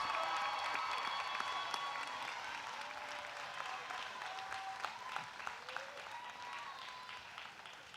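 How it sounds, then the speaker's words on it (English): Applause from a large crowd at a Delaware State University fall commencement, steady dense clapping filling the hall for the whole stretch with a few scattered whoops and cheers rising above it. "a round of applause to those who are with us here today and can hear your raucous and riotous applause"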